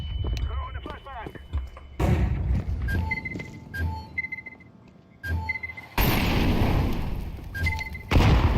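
Flashbang grenade going off in the tactical shooter Valorant, several loud broadband bursts and thumps mixed with game effects and chimes, with voices calling out over the action.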